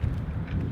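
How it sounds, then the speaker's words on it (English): Strong wind buffets the microphone on a lookout above North Sydney, a low, rumbling roar that rises and falls unevenly without a pause. "it is fucking windy, man"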